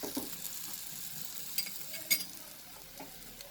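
Buttered bread toasting in a very hot pan for milk toast, a soft steady sizzle with a few light scrapes and clinks of a utensil against the pan.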